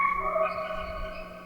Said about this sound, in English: The next thing that I added was this texture phrase that I got from a kit.